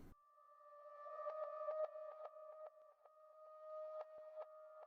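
Reversed, pitched-up keys chopped and rearranged into a high, glassy pattern, with sustained bright tones broken by quick rhythmic stutters, quiet and isolated.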